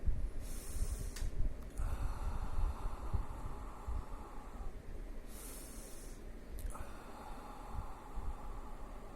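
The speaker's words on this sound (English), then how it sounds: "Inhale from the nostril, exhale from the mouth. Deep inhale." Slow deep breaths drawn in through the nose and let out through the mouth, soft airy rushes in a calm repeating rhythm, close and quiet over faint background hiss.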